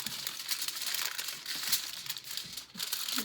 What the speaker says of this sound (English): I just sort of crumple it lightly until I kind of have my shape.